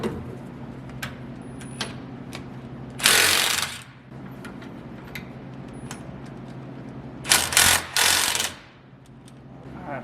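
A ratchet wrench works the two brake caliper bolts loose on a RAM 1500 during a limited slip differential install, a quick clicking rattle under a low hum, broken by two loud bursts of rushing noise.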